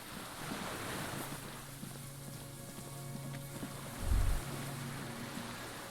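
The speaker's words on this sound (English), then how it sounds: "Signal horns echo on the water." Distant cargo ship signal horns sound as long, low, steady tones echoing across the water of a Disco Elysium harbor, under constant wind and lapping waves, with one brief low thump partway through.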